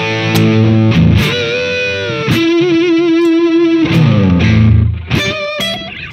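Electric guitar played through a Helix Stomp XL on a basic in-ear patch with a high-watt amp and a slapback echo: a few picked chords and sustained single notes with a slightly softer, clean-edged distortion, loud and alone.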